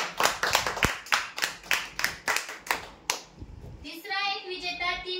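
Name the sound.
clapping for the winner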